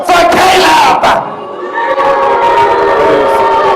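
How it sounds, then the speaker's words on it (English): A packed wrestling arena crowd roars and yells at full volume, a loud sustained wall of cheering that dips briefly before surging again. "Ladies and gentlemen, let me hear you cheer for Caleb."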